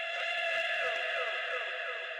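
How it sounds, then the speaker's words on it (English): Self-made Butcher House style scream sample in an underground cloud rap beat: a sustained, dense, bright wailing texture with sliding pitch sweeps, played steadily for about two seconds with no talking. "Just this Butcher House scream that I made."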